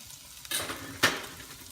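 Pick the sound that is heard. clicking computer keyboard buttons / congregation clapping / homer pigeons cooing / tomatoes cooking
tomatoes cooking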